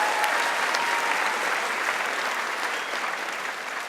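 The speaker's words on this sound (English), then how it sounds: "Let's give Zoe another round of applause." Sustained audience applause at a school district convocation session following a youth speaker, a dense steady wash of many hands clapping that holds loud throughout and eases slightly near the end.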